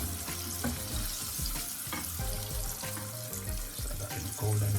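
Shrimp fry in a pan with a faint, steady sizzle, broken by occasional clinks and stirring noises as the pieces are moved about.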